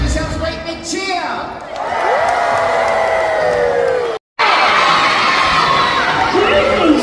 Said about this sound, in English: And everyone give yourselves a great big cheer.